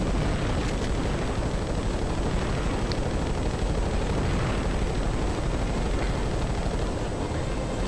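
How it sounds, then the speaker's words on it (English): Machine gun fire in the Ratchet and Clank video game, a dense, continuous roaring burst of rapid shots with heavy rumble running the whole stretch, loud and steady with no voices. "Square to shoot the machine gun"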